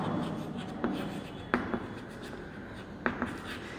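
A pen writes on paper during a science lesson, giving quiet scratchy strokes broken by a few sharper taps and flicks at irregular intervals, with no speech over it.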